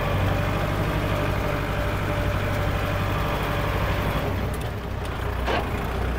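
A Kubota L5018SP tractor engine running in second gear, a steady close diesel drone with a constant low rumble and no talking.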